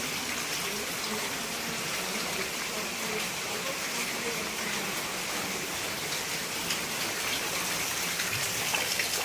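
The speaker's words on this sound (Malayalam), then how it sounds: "മഴ ഇങ്ങനെ പെയ്തുകൊണ്ടിരിക്കുകയാണ്." Heavy rain pours down in a steady, dense hiss that continues without a break throughout, close and enveloping.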